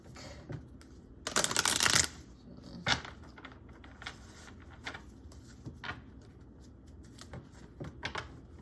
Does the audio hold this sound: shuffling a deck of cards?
yes